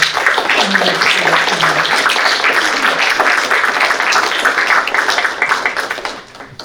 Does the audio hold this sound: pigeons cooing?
no